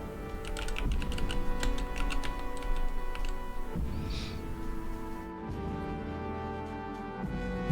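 Computer keyboard keys are pressed repeatedly during game development in Unreal, a rapid run of crisp close clicks that thins into a few scattered taps.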